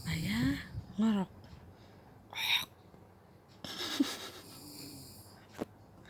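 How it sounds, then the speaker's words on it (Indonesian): A father snores while asleep in the daytime, giving short rasping breaths at irregular intervals, and a voice and other quiet voices are heard between them. "Ayah ngorok."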